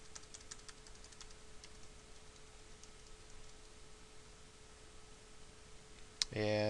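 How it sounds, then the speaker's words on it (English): Typing on a computer keyboard: a quick run of faint, light key clicks at the start, then quiet hum with a few scattered taps and a sharper click near the end. "So after typing in build essential, I should be able to hit enter."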